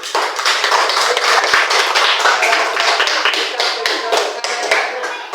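A classroom of primary-school pupils claps hands together in a sustained, dense burst of rapid clapping that stays loud and even throughout.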